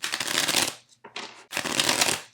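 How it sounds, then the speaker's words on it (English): A deck of 52 hand-monogrammed playing cards plus a joker is riffled close up in two quick, loud bursts separated by a brief pause, with no talking. "so I'm gonna give these a good shuffle."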